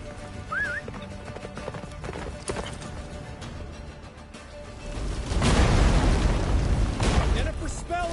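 Roach, the horse in The Witcher 3, gallops with steady rhythmic hoofbeats under a howling blizzard, while someone speaks over the galloping and the wind swells louder toward the end.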